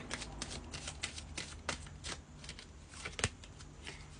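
Oracle cards being shuffled by hand, a rapid run of close, crisp riffling flicks and papery slaps in quick bursts, quiet and without talk.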